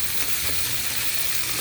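Conch pieces sizzle and fry steadily in a hot pan while being stirred, a close, continuous hiss with no talk.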